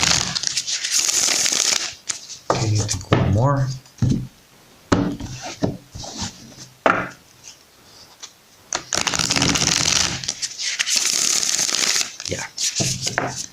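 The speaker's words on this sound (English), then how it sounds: "Alright, let's see how many shuffles" Tarot cards are shuffled in long, dense riffling bursts, loud and close, with a few short spoken remarks in the quieter gap between shuffles.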